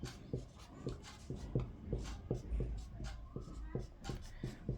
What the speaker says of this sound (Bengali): আমি বোর্ডে লিখছি